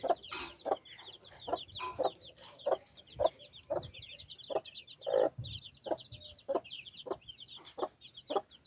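Chickens clucking repeatedly in short irregular bursts, close by in a village, with chirpy peeping calls from small chicks running steadily underneath.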